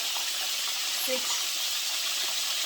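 About five or six shrimp fry in a crowded pan for bang bang shrimp, giving a steady, even hiss and sizzle with faint pops, close and continuous throughout.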